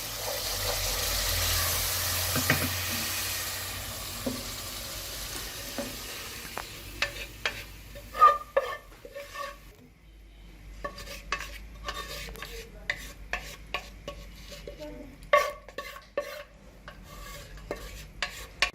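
Roasted masala being stirred into beef paya in a pot: a spoon scrapes and clinks against the metal over a steady sizzle that is loud at first, then gives way to irregular stirring knocks and scrapes with no talking.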